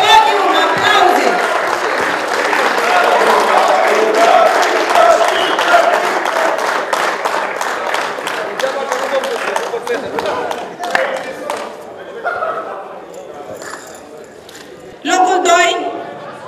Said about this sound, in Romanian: Felicitări, aplauze, vă rog!